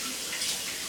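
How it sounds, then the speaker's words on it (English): A small plastic Daiso sushi mold rinsed under a running kitchen tap, a steady broadband hiss of splashing water lasting under a second, close and fairly quiet. "let me just rinse this out really quickly"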